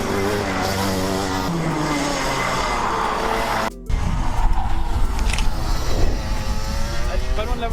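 Racing karts roar around a outdoor karting track, a loud continuous engine drone with tire noise, then a brief dropout before another kart passes close and loud.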